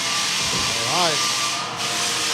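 A floor sander grinds steadily across a wood floor, giving a loud, continuous abrasive hiss and rumble up close. A brief voice surfaces faintly under the noise.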